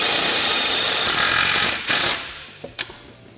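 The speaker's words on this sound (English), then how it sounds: "So we'll go ahead and shoot the rest of our self-tappers in." A power drill drives self-tapping screws into a SuperATV full skid plate on a Honda Talon 1000, giving a loud continuous whirring burst that stops abruptly, followed by a couple of sharp clicks.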